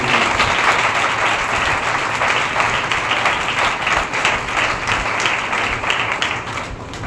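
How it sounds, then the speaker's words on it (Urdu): A large church congregation at a Sunday service claps steadily and loudly, a dense wash of applause that holds throughout. "آئے زوردار تالیاں بجائیں خدا کے نام"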